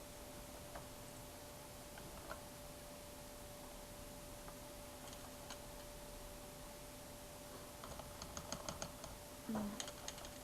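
Keys on a computer keyboard tap faintly in a quiet room while a video title is typed, with sparse isolated clicks giving way to a quicker cluster of keystrokes near the end over a steady background hiss.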